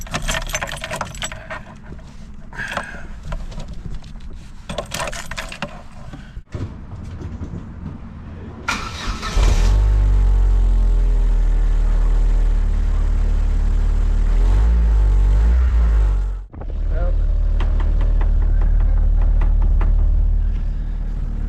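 Keys jangle and rattle for several seconds before a Vauxhall Corsa B GLS 1.4Si petrol engine cranks and fires on an early morning cold start, then settles into a loud, steady idle with one brief dip, close to the car.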